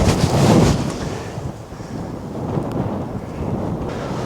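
Strong wind buffets the microphone on a remote golf course in the UK, a loud, continuous roar and rumble that surges at the start, then settles into a steady gusting blow.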